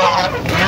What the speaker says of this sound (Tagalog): Ito po yung mga manok na isa sa mga manok na pinapalahi.